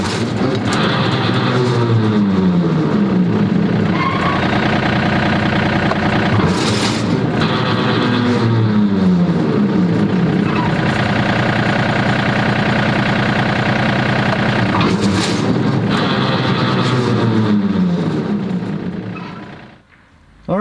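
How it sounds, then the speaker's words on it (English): A tractor runs its PTO driving a Frontier rotary cutter during slip clutch adjustment, a loud continuous engine drone with repeated surging sweeps as the drive engages and disengages, then fading out at the end. "I'll operate the PTO a couple times on and off just to see if it slips"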